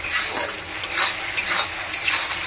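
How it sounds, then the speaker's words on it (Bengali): Ginger garlic paste being stirred in a frying pan over heat, a steady sizzle with repeated rhythmic scraping strokes of the spoon, close and moderately loud, no voices. "আদা রসুনটা দিয়ে দিয়েছি, দিয়ে এবার নাড়ছি ভালো করে"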